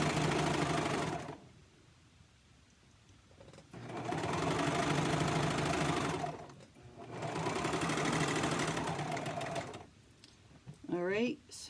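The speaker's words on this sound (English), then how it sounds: "we're going to serge this here together" A serger sewing machine runs in bursts while stitching stretchy bamboo knit fabric for a scrub cap, with loud sustained whirring stretches separated by quieter pauses and a brief clatter near the end.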